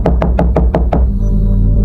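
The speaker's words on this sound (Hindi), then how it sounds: "पुराना लकड़ी का दरवाजा, आंगन में तुलसी चौरा और बरामदे में जलता हुआ एक छोटा सा दीपक। अर्जुन ने जल्दी जाकर दरवाजा खटखटाया।" Six sharp, evenly spaced knocks on an old wooden door, loud and close, then the knocking stops and a low background hum carries on.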